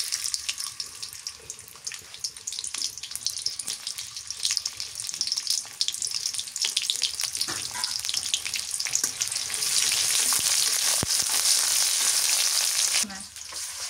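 Onions fry in hot oil in a village kitchen pan, a bright continuous sizzle that swells louder partway through and holds steady, with a few faint clinks.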